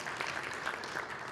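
At a city council meeting, the audience gives a short round of applause for a local swimmer, soft and somewhat distant, lasting only about a second.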